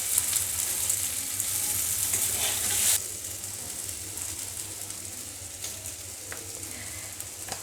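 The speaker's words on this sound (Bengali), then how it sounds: "বন্ধুরা, মান কচুটাকেও খুব ভালো করে ভেজে নেব।" Taro (maan kochu) pieces frying in hot oil for a Bengali fish-head curry, a dense continuous sizzle that is louder at first, then settles into a steadier crackle.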